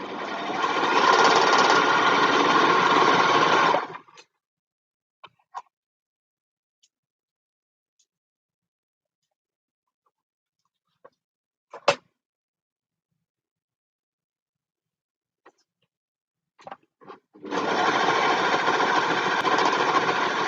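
A sewing machine stitches fleece fabric in two steady motor-driven runs, one at the start and one at the end, with a quiet gap between them holding only a few small clicks and handling noises.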